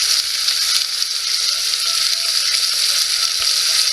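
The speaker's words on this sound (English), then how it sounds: "And my fried onions aren't frying too quickly for some reason." Onions sizzle steadily in a hot frying pan, a dense, even crackle that holds at a constant level for the whole stretch with no voices over it.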